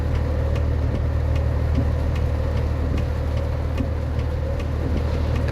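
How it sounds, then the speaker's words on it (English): Deep, steady truck engine in the American Truck Simulator game, a Peterbilt 389 glider with a lowboy trailer, droning on at an even low pitch with a faint regular ticking and no talk. "Best sounding engine in the game right now."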